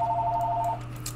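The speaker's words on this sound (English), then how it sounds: "A ringing phone, it's right there." Telephone ringing in the Hearts of Iron IV video game, a steady electronic two-tone trill that sounds once and then cuts off, heard alone and fairly close.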